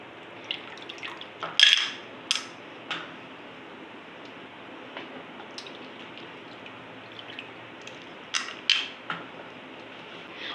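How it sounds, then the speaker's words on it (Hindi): Water trickles and drips onto tamarind and plum pulp in a bowl, with a few sharp splashes and ticks standing out over a faint steady background, no talking. "सारे पल्प को इसमें डालूंगा और इसमें दोबारा पानी डालूंगी"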